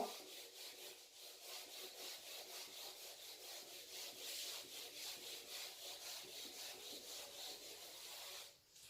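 Writing is rubbed off a classroom board in a faint, steady back-and-forth scrubbing with a soft rhythmic rasp and no talk over it.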